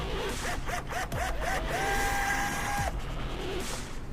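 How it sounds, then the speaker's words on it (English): Air rivet tool setting rivets on a wicker bill for a 2017 Chevrolet Camaro 1LE: several short rising whirs, then one longer sustained whine, close and loud over a steady shop hum. "now we are doing our next set of rivets here"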